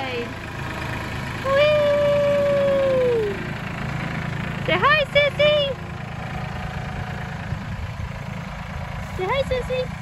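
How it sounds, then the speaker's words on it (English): A tractor engine rumbles steadily low underneath during a ride, while excited children and adults talk and squeal over it. "first tractor ride"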